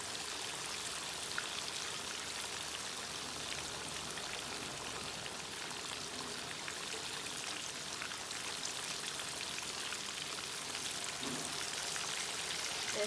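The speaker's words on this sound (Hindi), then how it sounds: "इसको एक साइड पे अच्छी तरह पकाऊंगी, फिर उसके बाद इसका साइड जो है वो चेंज कर दूँगी।" Masala-coated fish fries in a pan, giving a constant, even sizzle like fine rain that continues throughout with no pauses.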